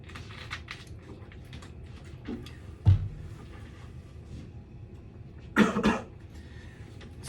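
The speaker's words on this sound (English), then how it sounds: "Excuse me for a second. I've had a cough." Two short coughs, one near the middle and another a few seconds later, over a low background hum in a quiet room.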